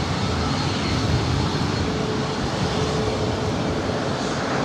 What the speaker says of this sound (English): Here we have WestJet 1697 about to take off to Vancouver on a MAX 8.